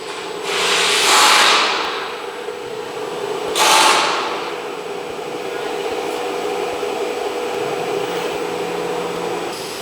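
A loud CNC router drone hums steadily, with two rising-and-falling whooshing bursts early on as the drilling head changes and measures tools, like a spindle spinning up and down; no talking.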